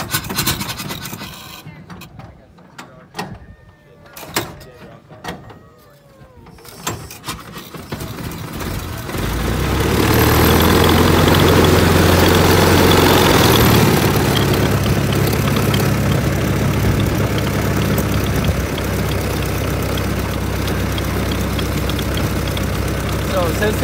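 A 1916 Ford speedster engine is hand-cranked with scraping, clunking strokes, then catches and runs in a loud, rough, continuous rumble; someone speaks briefly during the cranking.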